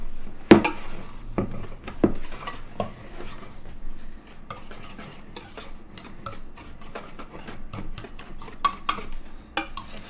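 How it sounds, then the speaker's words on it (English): A fork mashing two sticks of butter into cinnamon sugar in a bowl, heard as repeated close scraping and tapping strokes with occasional sharper clicks against the bowl, irregular in rhythm and free of talk. "We're going to add 2 sticks of butter to that and mash it together with a fork"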